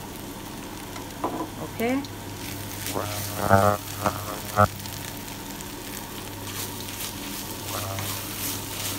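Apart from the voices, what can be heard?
stirring beef with tomato puree and pesto in frying pan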